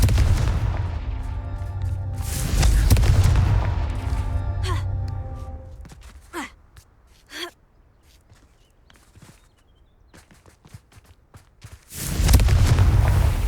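A Confringo fire spell explodes in Hogwarts Legacy, a broad, loud boom at the start that rumbles and fades. Two quick sharp cracks follow midway, then another heavy blast hits at the end.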